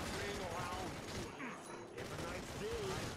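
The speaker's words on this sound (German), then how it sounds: "Einen Schuss mit der Knarre." Gunfire in The Showdown Effect, a multiplayer action video game, with bursts of shots and mechanical clatter mixed into dense game noise, while voices talk and react over it.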